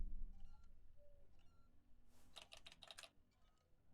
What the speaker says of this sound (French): Oh, le vieux bruit de clavier